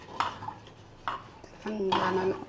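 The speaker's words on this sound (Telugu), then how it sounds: "బెల్లం వేసినాక ఇట్లా కలుపుకోవాలి." A spoon stirs a tamarind and jaggery mixture for Ugadi pachadi in a pot, giving a few light clinks and scrapes spaced apart, close and soft, with a brief voiced sound near the end.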